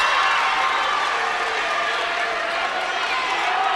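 The Cloudland cheering section at a high school boys basketball quarterfinal keeps up a loud, continuous roar of cheering and shouting across the gym.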